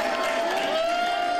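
Wright State Raiders basketball fans gather in a student union to cheer on their team against the Arizona Wildcats, a dense, steady crowd roar with mixed voices filling the room throughout.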